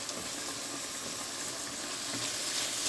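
Chicken cooking in a pan gives off a steady, close sizzle and frying hiss that runs unbroken and fairly loud from start to finish, with no voices over it.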